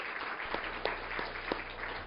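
A church congregation applauds during a Korean afternoon praise service, a brief burst of many hands clapping with a few sharper individual claps standing out, steady and moderately loud, with no talking over it.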